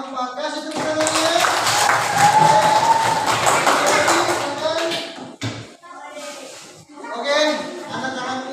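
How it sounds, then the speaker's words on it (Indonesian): Students in a classroom break into a few seconds of lively group clapping, and a voice speaks before and after the applause. "Kasih tepuk tangannya."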